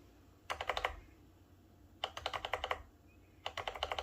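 Keys clatter on an Alpha Freewrite keyboard in three quick bursts of rapid typing separated by pauses, close and fairly quiet in a still room.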